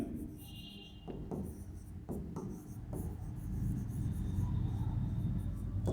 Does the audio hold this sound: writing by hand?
yes